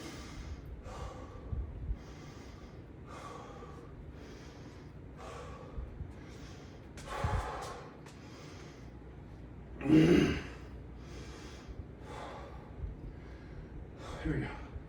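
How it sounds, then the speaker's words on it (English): Heavy, rhythmic breathing after sandbag burpees: roughly a dozen loud, breathy gasps about a second apart, up close, with a sharper snort-like exhale near the end. "All right, I'm gonna breathe."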